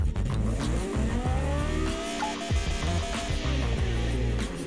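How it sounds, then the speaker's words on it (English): A turbocharged station wagon engine running rich revs hard and loud, the turbo straining as the pitch rises and falls in sweeping pulls with dense engine roar throughout. "And engine's running too rich."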